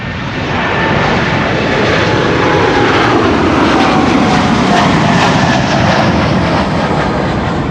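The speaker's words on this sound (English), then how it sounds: "Air Canada also coming this way, Air Canada Flight 809." An Air Canada airliner departing Amsterdam Schiphol on runway 24 gives a loud, sustained broadband engine roar that swells in over the first second and holds steady, nearby and alone.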